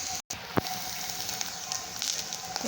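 Masala roasting in oil in a pan over a low gas flame gives a steady, soft sizzle and crackle with a few small pops, close and continuous, without talk.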